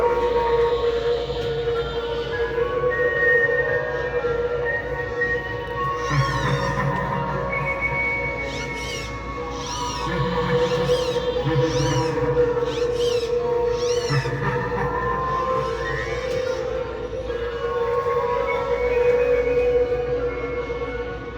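A large Freddy Fazbear animatronic Halloween decoration runs continuously, with a steady motor hum and a recurring series of short whirring or squealing mechanical bursts, fairly loud and close, with no talking.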